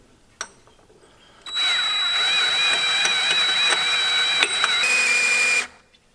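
An overworked, smoking electric drill spins the oil pump on a rebuilt 1969 Dodge Charger engine, a loud steady whine lasting several seconds after a sharp click, then cutting off abruptly.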